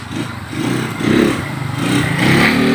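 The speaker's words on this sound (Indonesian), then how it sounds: "Wah lihat Bang Ucok mau nyoba Mio coy" Yamaha Mio Sporty scooter fitted with new valves being ridden, a loud close small engine buzzing and revving in pulsing surges that rise and fall.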